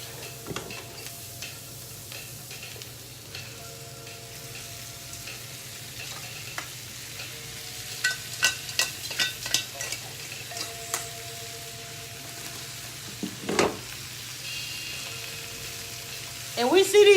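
Spinach fries in a pan with a low, continuous sizzle, broken by scattered clicks and light knocks of utensils against cookware, a brief louder stir near the end.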